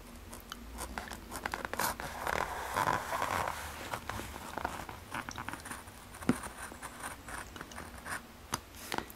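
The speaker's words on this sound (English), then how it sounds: "I'm going to cut out another heart using the" A conventional craft cutter slices a heart shape out of paper, giving close, scratchy scraping strokes in irregular bursts over a faint steady background.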